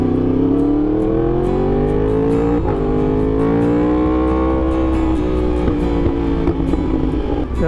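A Yamaha R1 motorcycle engine revs hard and steadily up close, its droning tone sweeping up and down, with faint crackling pops from backfires scattered over it and no voices.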